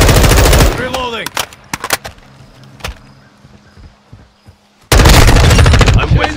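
Rapid automatic gunfire roars in dense bursts at the start and end of a video game fight, with scattered single shots and footsteps in a quieter stretch between.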